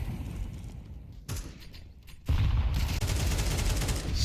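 Gunfire rattles through a Counter-Strike match, with quick bursts and single shots crackling at mid distance, then a denser, louder stretch of shooting and game noise taking over partway through.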